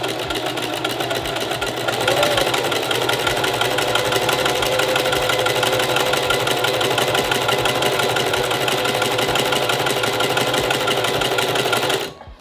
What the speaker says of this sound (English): now I'll drop my presser foot and let the machine do the rest.